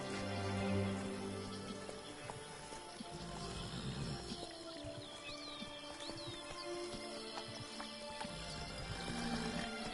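Horses in the video game The Witcher 3: Wild Hunt, Blood and Wine DLC, with soft hoof clops and light snorting set in an ambient outdoor soundscape with music, steady and moderately quiet throughout.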